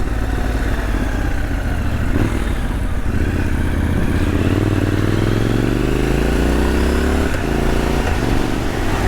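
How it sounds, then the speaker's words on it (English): A Triumph Scrambler XE motorcycle engine revs hard under throttle, loud and close, its pitch climbing steadily as the bike is pushed up the rev range, with mechanical clatter underneath. "Get it up into the rev range and give the throttle a whap, and front wheel comes up quite nicely."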